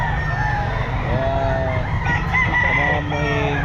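Rooster at the Bocaue pet market crowing twice in drawn-out cock-a-doodle-doo calls, fairly close over a busy, murmuring market background.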